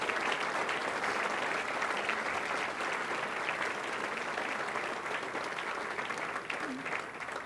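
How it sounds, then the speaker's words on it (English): A large audience at a Western Australia Police Force recruit graduation ceremony gives sustained, dense applause, a steady even roar of many hands clapping throughout. "So let's give them a round of applause for what an amazing job they have done."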